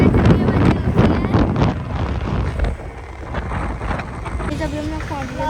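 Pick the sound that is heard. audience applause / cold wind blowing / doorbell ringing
cold wind blowing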